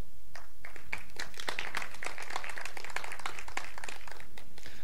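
Audience applause at a code::dive programming conference talk: dense, brisk clapping from a crowd that builds and holds for several seconds, fairly close, with no speech.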